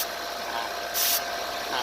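A car engine idles with its air conditioning running during an AC system check with a pressure gauge, a steady low hum with a brief hiss burst in the middle, close by.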